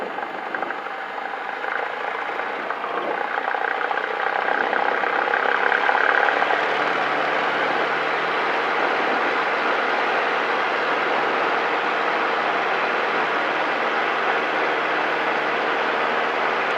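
Cessna 172 piston engine during the takeoff roll, a steady loud droning hum heard from inside the cabin that swells slightly as power builds and then holds constant, with no talk over it.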